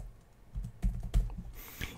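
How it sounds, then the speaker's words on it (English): Typing into a spreadsheet on a computer keyboard: a short burst of soft, quick key taps with two firmer clacks, close and alone with no voices. "but if I just start typing,"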